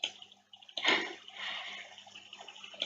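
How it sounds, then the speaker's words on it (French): Splashing water from the Splash move in Pixelmon, a Pokémon mod for Minecraft: a sudden burst of sloshing, splattering water that rises sharply, then carries on as a steady wash and fades out, with no talk over it. "le lanceur barbotte et éclabousse les environs"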